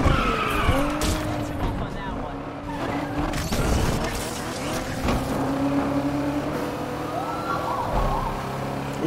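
Racing car in the Need for Speed Unbound video game accelerating hard and skidding through a race, engine roar and tire screech continuous and loud, with siren-like tones and someone talking over it.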